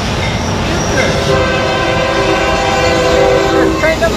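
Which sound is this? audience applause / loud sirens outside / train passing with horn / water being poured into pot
train passing with horn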